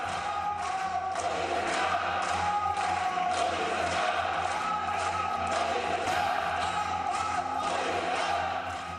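BJP MPs in Parliament applauding and cheering for PM Modi, a dense, steady roar of clapping and crowd voices that holds loud throughout.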